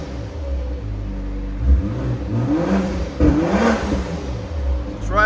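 A 2025 BMW X5 xDrive50e 3.0L inline-six hybrid fitted with a Flowmaster 80 Series exhaust revs up twice from a steady idle, each climb rising and falling near and loud before settling back.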